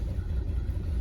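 A Ford Thunderbird engine fitted with Holley tuning idles steadily, a low, even rumble close by with no voices and no throttle changes.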